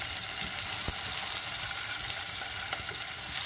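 Peri peri chicken steak sizzles steadily in a pan, a dense continuous frying hiss close up with a few faint pops and no talking.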